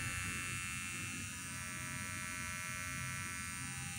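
A Kemei 1943 hair trimmer fitted with a StyleCraft precision blade runs with a quiet, steady electric buzz and a faint, even hum, with no talking.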